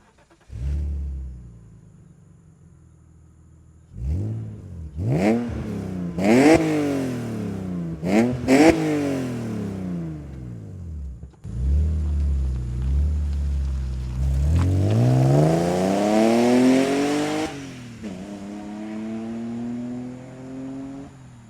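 A BMW E39 530i M54B30 engine with aftermarket headers revs hard several times in sharp bursts, then holds a long, loud rising rev with a raspy, throaty exhaust note before settling back.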